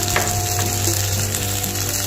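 Fish sizzles in hot oil on top of frying onions, making a steady, loud, close hiss with small crackles and a faint low hum underneath, and no voices.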